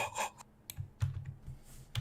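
Someone types on a computer keyboard, with close, crisp keystrokes coming in short irregular bursts and pauses, and nobody speaking.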